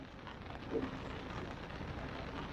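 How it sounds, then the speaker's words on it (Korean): Steady rain patters and hisses on a 22-year-old soft-top convertible in a dense, even wash of sound, with no voices. "이 정도 비가 내리는데 일단 보시면서 빗소리 ASMR 가겠습니다"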